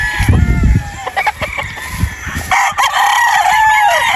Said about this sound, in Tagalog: dami tayo ditong magaganda, ang gwapong mga manok.